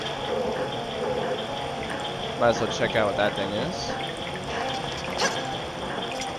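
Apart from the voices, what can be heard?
running water in a temple, from a video game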